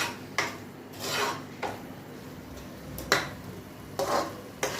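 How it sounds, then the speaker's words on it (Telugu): A spoon stirs fish curry in a metal pot, mixing in salt, turmeric and chili powder. Several scraping, clattering strokes come at irregular intervals over a faint sizzle nearby. "సో ఇప్పుడు మిక్స్ చేసుకుందాం."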